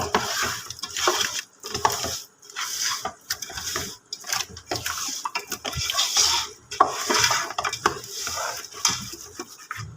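Beef pieces are mixed in a pot for dum pukht. Irregular bursts of wet scraping and stirring alternate with short pauses, close by, with a faint sizzle underneath.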